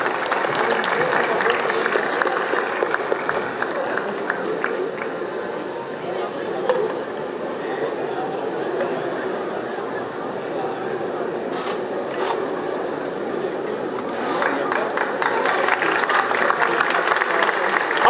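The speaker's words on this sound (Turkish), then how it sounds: "alkışlar sayın başkanlarımıza." Sustained applause from a large festival crowd greeting mayors on stage, steady clapping that swells again toward the end, with some voices mixed in.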